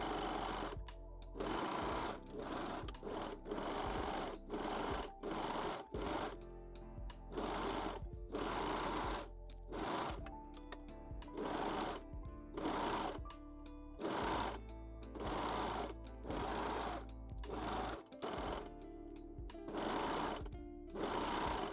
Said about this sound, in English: sew these 3 pieces using a serger or zigzag stitch